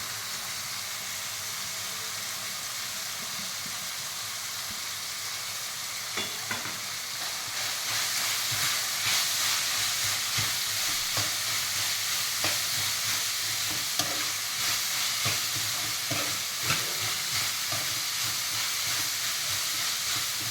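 Cut cabbage added to a hot pan with sweetcorn and capsicum for Schezwan fried rice, a quieter sizzle swelling into a loud, steady hiss with intermittent stirring scrapes, no voices.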